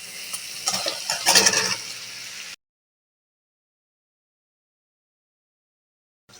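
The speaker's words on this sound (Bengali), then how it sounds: "এই যে মশলাটা কষানো হয়ে গেছে, এখন সবজিগুলো দিয়ে দিচ্ছি।" Chunks of eggplant, potato and cucumber hit a pan of cooked-down spice paste, sizzling and scraping loudly for a couple of seconds before everything cuts to silence.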